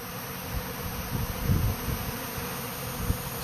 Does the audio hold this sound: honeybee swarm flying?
yes